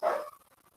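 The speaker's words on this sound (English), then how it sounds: "you'll hear the dogs barking like that because they hate fireworks" A single short dog bark rings out during New Year fireworks, then fades into quiet.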